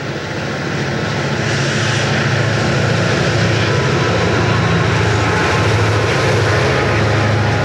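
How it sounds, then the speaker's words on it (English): A westbound Erie Lackawanna freight train approaching Denville, its diesel engines a steady, loud rumble that builds and then holds, with no talk over it. "There's a westbound freight approaching Denville."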